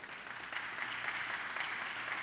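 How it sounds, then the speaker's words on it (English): A church congregation gives a clap offering, a soft, steady wash of many hands applauding at a distance for about two seconds, with a low hum underneath. "You know, you can give the Lord a clap offering."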